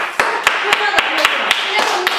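Quick, rhythmic hand claps sound from a small group on a Korean variety show with the pop group Crayon Pop, evenly spaced beats under ongoing voices and background sound.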